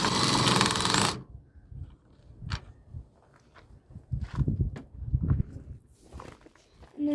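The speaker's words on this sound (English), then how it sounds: "we're going to unscrew those" Screws being loosened from the headlight housing of a 2007-2014 GMC Yukon, heard as a run of short, close metallic clicks and scrapes at irregular intervals, after a brief burst of broadband noise at the start.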